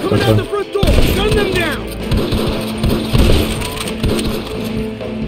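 Sniper rifle gunfire in the video game Red Dead Redemption, a few sharp shots cutting through a busy mix of game sound while people talk over it.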